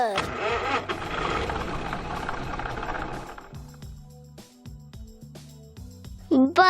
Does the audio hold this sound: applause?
no